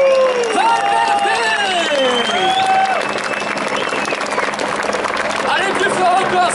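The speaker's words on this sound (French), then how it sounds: "tous les applaudissements du public de nuit pour Alain Vendron" A large roadside crowd applauds and cheers steadily for the Flèche Wallonne 2016 winner at the podium, with a commentator's voice speaking over the continuous clapping.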